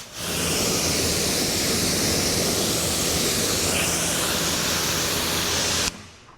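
Steady rushing spray of water rinsing off a ceramic-coated car, a loud and constant hiss lasting about six seconds before it cuts off abruptly.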